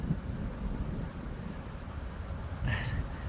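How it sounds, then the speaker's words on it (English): An outdoor thunderstorm brings steady rain and low rumbling thunder with gusting wind, a constant dense wash that swells near the end. "it's going to be a very big storm, so let's go and hide"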